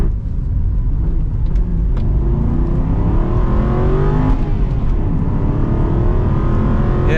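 An Aston Martin Vantage V8 with a manual gearbox revs hard as it accelerates, its loud engine note climbing through the gears with rumbling exhaust and no voices.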